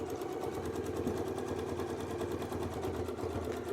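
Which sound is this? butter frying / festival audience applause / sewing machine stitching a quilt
sewing machine stitching a quilt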